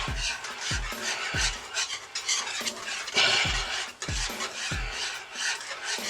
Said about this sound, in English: We're going to mix that up in here. In the cheese sauce.